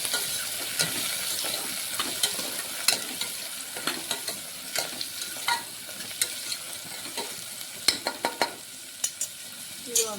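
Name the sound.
onion and tomato frying for pulao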